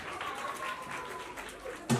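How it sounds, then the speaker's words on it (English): Students clapping at a school assembly celebrating International Day of the Girl Child, a faint, diffuse patter of applause that ends with a brief thump. "Can you clap?"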